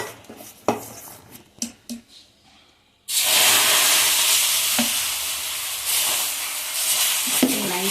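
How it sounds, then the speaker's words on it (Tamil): Green gram dosa batter hits a hot griddle after a few soft clinks of utensils, breaking into a loud, steady sizzle that hisses on continuously. "நம்ம மாவு ஊற்றுவோம்."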